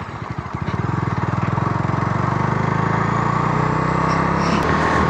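A 2025 Bajaj Dominar 250 motorcycle being ridden, its engine building from a low start into a steady, close, rapidly pulsing drone that holds level and loud throughout.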